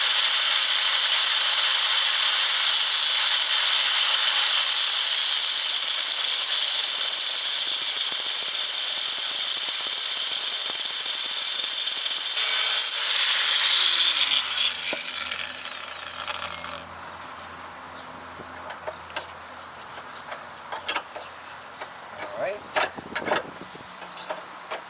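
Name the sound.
angle grinder cutting a nut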